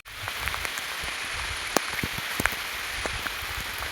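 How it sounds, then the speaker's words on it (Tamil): Heavy rain pours steadily in the mountains near a dam and hilltop temple. It makes a dense, constant hiss with scattered sharper drops spattering close by, and no one speaks. "நல்ல மழை பெய்யுது."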